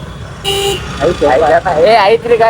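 A short, steady vehicle horn toot sounds once, close by, followed by a person talking over background traffic.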